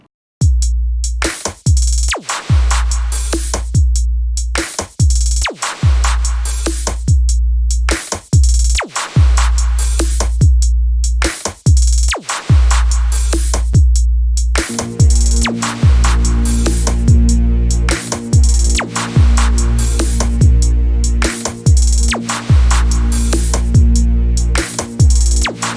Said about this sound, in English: let's see how our kick drum sounds and how it sits in the whole mix